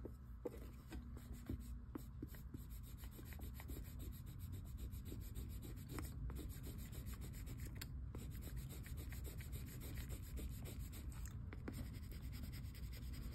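Mylar foil being rubbed onto polymer clay by hand, a continuous dry scratchy friction with small repeated strokes, close and fairly quiet, steady throughout with no talking.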